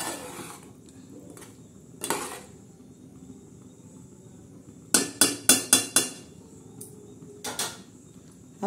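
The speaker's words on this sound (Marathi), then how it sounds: "असा हलवून घ्यायचा परत एकदा, मस्त असा हलवून घ्यायचा।" A spoon stirs fish masala curry in a cooking pot, giving several sharp metallic scrapes and clinks, including a quick run of four or five knocks in the middle, with quiet stretches between.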